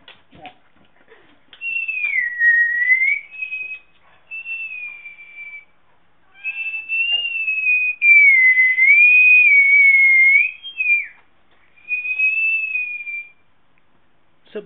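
Clear melodic whistling in several sliding phrases separated by short pauses, close and fairly loud.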